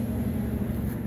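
A 2007 GMC Sierra 2500HD pickup with a 6.6-litre LBZ Duramax diesel engine idles with a steady, close, low rumble. No voices are heard.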